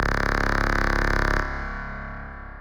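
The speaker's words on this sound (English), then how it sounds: "it might just be the Hall reverb" A sustained, buzzy drone from a Korg NTS-1 synthesizer with a pulsing texture cuts off, leaving a long, fading hall reverb tail.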